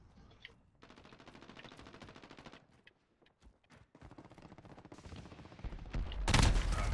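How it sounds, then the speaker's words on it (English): Bursts of AK-47 automatic gunfire from the video game Modern Warfare, rapid rattling strings of shots with a short gap, then louder, closer firing near the end, heard alone without speech. "I'm using the AK-47 as well"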